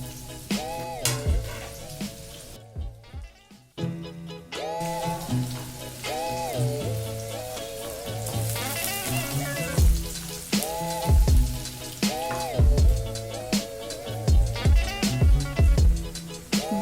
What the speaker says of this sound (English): Add onion. Fry up until they are light brown.